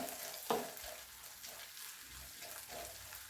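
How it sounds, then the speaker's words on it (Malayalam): Shallots, green chillies, ginger and garlic fry in a pan while being stirred, a steady soft sizzle with one brief clatter of the spoon near the start and no talking. "നമ്മളിതിൽ ചേർത്തിട്ടുള്ള ചെറിയുള്ളിയും പച്ചമുളകും ഇഞ്ചിയും വെളുത്തുള്ളിയുമെല്ലാം നന്നായിട്ട് മൂത്ത് വരണം അതുവരെ നമുക്കിത് ഇളക്കി കൊടുക്കാം"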